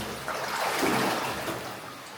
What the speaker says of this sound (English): An enormous Gower formation with water trickling down over it.